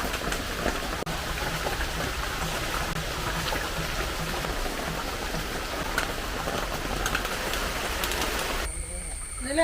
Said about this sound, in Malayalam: ജൂൺ മാസത്തെ മഴ തുടങ്ങി